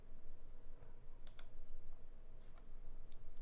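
Typing on a Pixelspace Capsule mechanical keyboard fitted with PE foam, a few sparse, quiet keystrokes over a low background hum.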